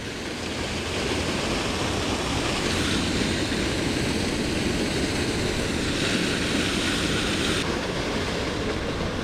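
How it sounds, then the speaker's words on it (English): Steady broad rushing hiss of water spouting from an old geyser at Big Mine Run in Pennsylvania, a constant roar that holds even and unbroken throughout with no voices. "Come see the old geyser here."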